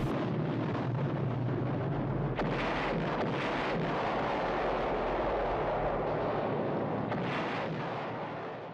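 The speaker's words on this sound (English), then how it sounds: "when you see the final explosion, they just blow up that one part that they rebuilt with lighter, more explosive materials" A large film-set explosion tears through a rebuilt chateau section made of cork and plastic, a loud, sustained roaring blast that rumbles and crackles for several seconds before slowly fading.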